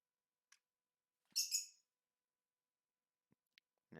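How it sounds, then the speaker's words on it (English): A bird at trackside during V8 Supercars qualifying at Winton gives a short, high, twittering chirp burst, faint and alone amid near silence, with a few tiny clicks before and after. "And as you can hear, the bird is getting excited."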